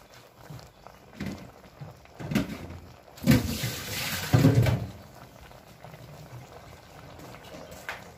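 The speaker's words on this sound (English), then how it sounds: "I soak many times, I wash many times the kangkong" Kangkong (water spinach) being washed under running water: a steady splashing, gurgling stream with louder surges of sloshing and rinsing in the middle, close up, without talk.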